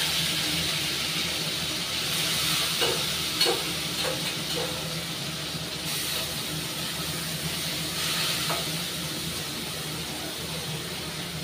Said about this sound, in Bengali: তেলটা গরম হয়ে গেছে ভেজে নেব